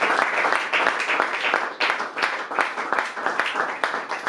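A church congregation applauds steadily for about four seconds, a dense, lively wash of many hands clapping together in a reverberant hall, loud and continuous.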